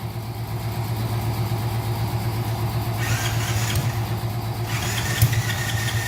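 A car engine with the choke on runs at a steady, loud idle with a low droning hum, joined partway through by a higher rattling whine.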